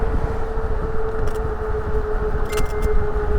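Moped-style electric bike with full suspension coasting downhill off the throttle, giving a steady road and wind rumble with a faint continuous motor whine that holds level as it gathers speed, plus a few brief light rattles.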